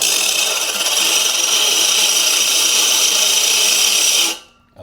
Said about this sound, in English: you want to hear that sandpaper-like contact